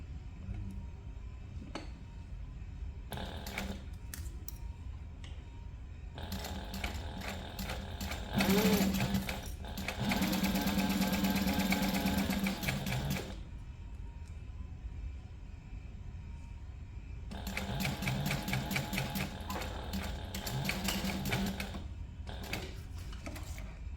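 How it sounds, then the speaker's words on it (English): A sewing machine stitches a seam on a crossbody waist bag at a 3/8 inch allowance, running in several bursts of rapid whirring, the longest near the middle, separated by short pauses and light handling noise, fairly close and with no voices. "we are going to sew this together using a 3/8 inch seam allowance"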